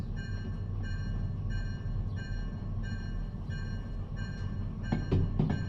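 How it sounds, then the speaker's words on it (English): A freight train rolls past in Derail Valley, a steady low rumble with a faint tonal whine, ending in a few sharper clanks. "there's the train going through."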